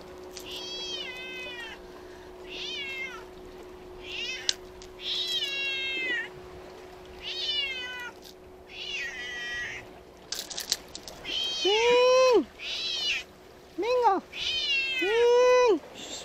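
A cat meows repeatedly, about a dozen loud, rising-and-falling calls coming in bursts, with a steady electrical hum running beneath.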